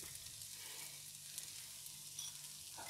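Chopped onion fries in a pan with oil for coconut fried rice, giving a faint, steady sizzle with small crackles and a few soft clinks, with no voices.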